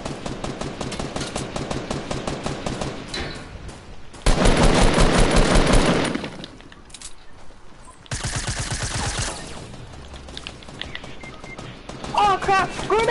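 Rapid automatic gunfire rattles in a video game battle, coming in long loud bursts separated by short pauses, with players chatting over the shooting.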